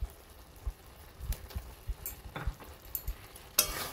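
Red amaranth greens with taro and prawns are stirred in a pan, with scattered scraping clinks and soft sizzling. The strokes come irregularly and close up, with a sharper clatter near the end and no talking.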